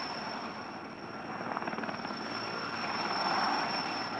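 A helicopter drones steadily at a distance, its rotor thrum slowly growing a little louder, with a thin high whine above.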